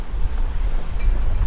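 Strong coastal wind at Santa Maria di Leuca, Italy buffets a microphone in continuous low rumbling gusts, loud and close, with no voices.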